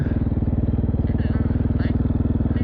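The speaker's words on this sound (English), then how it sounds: "License plate rattling, right? Yeah, it's a little loose." A loose license plate on a motorcycle buzzing and rattling steadily over the close, even drone of the running engine, with faint higher clatters breaking through now and then.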